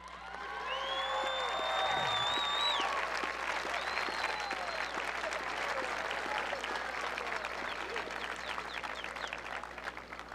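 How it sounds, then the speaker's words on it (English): Graduation ceremony audience at Goodrich Academy breaking into sustained applause that swells and holds steady, with a few cheers and whoops rising over the clapping. "Please join me in a round of applause to recognize the accomplishments of Tyra Ma Durgan."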